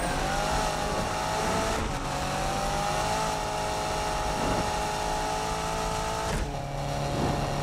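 A car in Need for Speed 2015 driving up onto the motorway, its engine droning steadily with a slowly shifting pitch and a couple of brief gear-change dips, loud and unbroken throughout.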